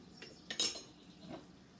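Metal utensil clinks and scrapes against a bowl while marinating sauce for dinosaur steaks is stirred, a few brief close taps with one sharper clink, no talking.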